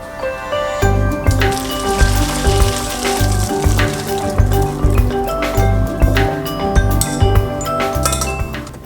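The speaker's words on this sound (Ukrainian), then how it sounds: "цибуля почне рум'янитися, зняти з вогню" Onions sizzle in a frying pan while cooking potato filling for varenyky, a steady crackling fry heard close up beneath prominent backing music.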